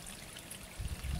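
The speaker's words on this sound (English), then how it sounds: "You hear the water?" Water trickles softly in a small stream near a pond and fence in the countryside, a faint continuous burble with slightly stronger gurgles toward the end.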